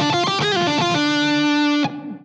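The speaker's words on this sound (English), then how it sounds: "all the way to a screaming lead tone when you select the bridge pickup and turn on the distortion." A distorted Fender electric guitar on the bridge pickup plays a quick lead phrase of bending notes, then sustains a single screaming note before cutting off.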